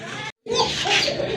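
Sky-blue Rajgolla pigeons cooing close by in a loft, with soft throaty coos broken by a brief silent gap.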